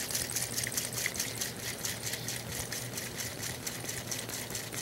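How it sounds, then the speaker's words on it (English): A cocktail shaker is dry-shaken without ice, producing a fast, steady rattling rhythm of repeated strokes that runs continuously at moderate loudness. "And then I'm going to dry shake my cocktail first to get it really"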